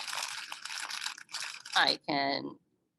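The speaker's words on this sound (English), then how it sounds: "literally just like crumple it up into the shape that you need" Newspaper is crumpled by hand into a shape for a sculpture, giving close papery crinkling and crunching in several bursts that end in silence.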